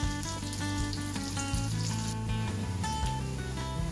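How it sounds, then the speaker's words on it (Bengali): Sliced onions and slit green chilies frying in oil in a pan as they are stirred, a steady sizzle and scraping heard under a continuous loud music track. "দেখুন আমাদের পেঁয়াজটা মোটামুটি বেশ ভালো ভাজা হয়ে গেছে"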